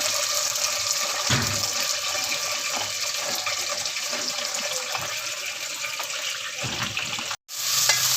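Onions frying in cooking oil for a chicken white qorma, stirred in the pan with a steady loud sizzle and periodic scraping strokes, with no voices.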